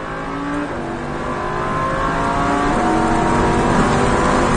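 A Lamborghini Huracan accelerates hard on a race circuit, its engine note climbing steadily and loud from the cabin through several seconds, rising harmonics building without a break and no voices over it.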